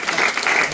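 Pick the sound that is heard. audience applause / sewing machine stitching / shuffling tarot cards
audience applause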